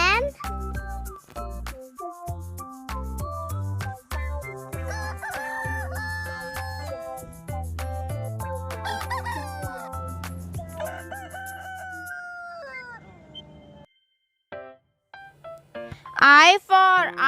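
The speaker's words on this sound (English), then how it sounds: "H for hen." A rooster crows and a hen clucks near the end of a children's alphabet song, loud sharp calls following bouncy music and a voice.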